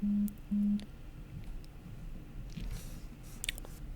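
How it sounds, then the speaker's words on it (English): Two short, flat electronic phone beeps sound in quick succession at the start, followed by quiet rustling and faint background noise. "Not my phone beeping at me."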